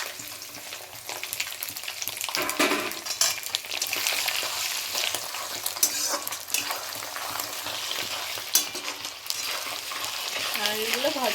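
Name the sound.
grated coconut being stir-fried in a pan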